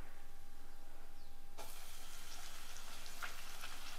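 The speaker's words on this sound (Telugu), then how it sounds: "ఆయిల్ అయితే హీట్ అయింది కదా, 1 స్పూన్ జీలకర్ర, 1 స్పూన్ ఆవాలు" Cumin and mustard seeds dropped into hot peanut oil, a quiet background hum that gives way to a sudden, steady frying sizzle with faint crackles.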